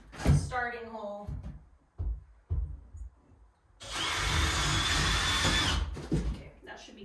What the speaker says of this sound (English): we're just gonna pre-drill a starting hole